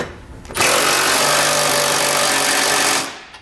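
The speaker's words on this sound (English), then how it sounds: "you want to come back with a 3/4 inch socket. You can also use a 19mm, but we're going to snug up all the flange nuts." A power tool fitted with a 3/4 inch socket runs steadily for about two and a half seconds, snugging flange nuts while installing a Curt trailer hitch receiver on a 2020 Chevrolet Blazer; loud, close, continuous buzzing whir with a clean start and stop.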